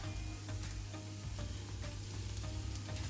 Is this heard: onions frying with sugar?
yes